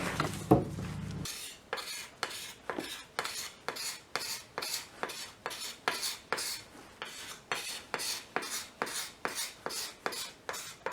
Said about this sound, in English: I'm going to use my scraper to do some final shaping on the neck to thin this out a little bit